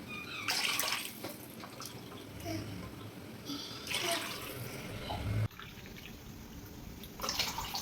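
Water is poured from a glass into a cooking pot of rice for chicken pulao, three separate short splashing bursts at a close distance with quiet pauses between.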